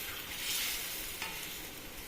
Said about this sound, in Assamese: মাছখিনি দি এতিয়া অকণমান সময়ৰ কাৰণে উতলিবলৈ দিম